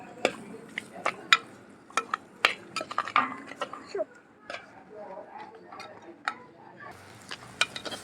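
Chicken and tomatoes are stirred and fried together in a pan with pepper, sharp scrapes and clicks of a spoon against the metal over a soft sizzle, while people talk throughout.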